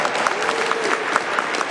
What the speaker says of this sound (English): So if you can please join me in a round of applause for our Deputy Mayors for Housing and Planning